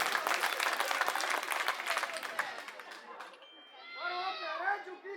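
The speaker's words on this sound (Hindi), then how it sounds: "इनके लिए ताली बजाओ एक बार जोरदार।" Loud applause from a crowd at a political rally in Delhi, dense clapping over about three seconds that then dies away, followed by someone speaking alone.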